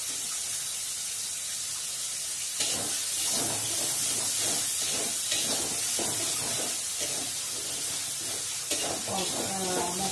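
Whole green chillies hiss and sizzle steadily in hot oil in a home kitchen pan, a loud continuous frying crackle with brief surges, while a voice talks quietly underneath.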